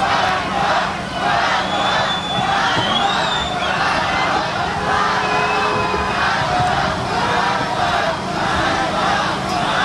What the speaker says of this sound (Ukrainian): Криками «Ганьба» зустріли львів'яни майже сотню беркутівців з опущеними головами